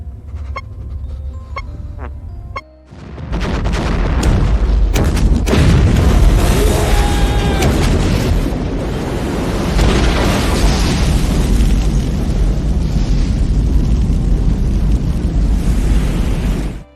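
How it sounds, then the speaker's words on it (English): A huge explosion aboard a spacecraft in the 1997 film Event Horizon erupts after a few seconds of quiet, then a long, loud rumbling roar with debris and wind-like noise that lasts to the end. "Smith is killed in the explosion, and Cooper is hurled into space."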